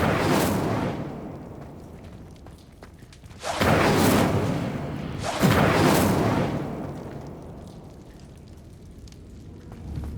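A fire spell cast during combat in Hogwarts Legacy, heard as two loud, roaring broadband whooshes with explosive onset, each swelling and fading over a couple of seconds against a steady rumbling battle ambience.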